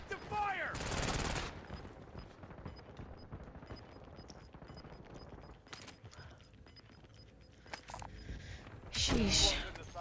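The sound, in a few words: gunfire in video game Call of Duty Warzone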